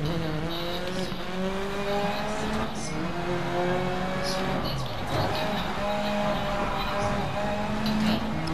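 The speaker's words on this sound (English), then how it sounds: "I like how the car sounds different from the different angles you're at." A video game car engine hums with steady tonal drone and pitch shifts that change as the view moves, punctuated by a brief tire screech, with a person talking over it.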